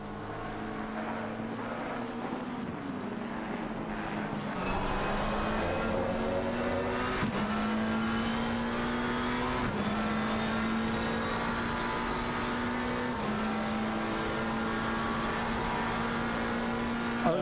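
Race cars in a sim racing game at the Red Bull Ring drone steadily and loudly throughout, engine pitch climbing and dropping as gears change, with a sharp surge in intensity partway through.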